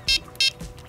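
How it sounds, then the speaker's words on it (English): Electronic bite alarm on a carp fishing rod setup, three short, sharp high-pitched beeps in quick even succession, close and clear over quiet background. "these two little black boxes that are called electronic bite alarms"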